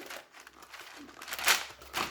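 A crinkly packaging tear and a sharp pop as a tube of dough bursts open, followed by a second rustling burst, close up.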